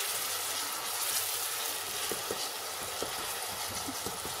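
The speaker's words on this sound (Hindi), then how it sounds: "यह मसाले को हम अच्छी तरह भूनेंगे।" Spice masala frying in a pan for Lahori chikar cholay, a steady loud sizzle with occasional stirring scrapes, no talking.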